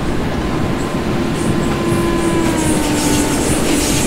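A train rolls in on a curve on an Indian Railways route near Bhusaval in the Open Rails simulator, a loud steady rumble carrying thin wheel-squeal tones that drift across the whole stretch, with no voices.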